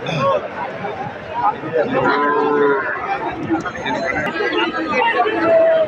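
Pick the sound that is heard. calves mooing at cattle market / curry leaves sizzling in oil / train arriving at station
calves mooing at cattle market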